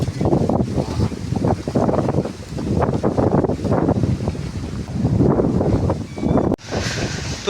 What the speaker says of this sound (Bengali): তুফান তুফান আই গেল।